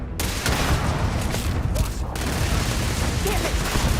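A shootout in Starfield: dense, continuous gunfire with overlapping shots and booms, loud and close throughout.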